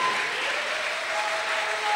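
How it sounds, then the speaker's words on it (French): Audience applause during a French-language radio sermon, a steady broadband clapping wash lasting the whole two seconds with no talk over it. "Acclamez fort"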